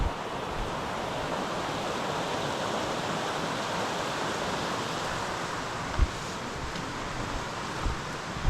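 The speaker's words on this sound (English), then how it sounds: "I believe this is Laurel Creek." Laurel Creek along the Appalachian Trail flows steadily in a continuous broadband rush, close and fairly even, with no voices.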